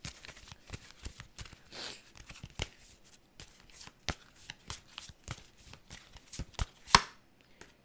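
A deck of tarot cards is riffled and shuffled by hand close up, producing rapid irregular snapping and flicking bursts over several seconds, ending with a sharper slap of the cards.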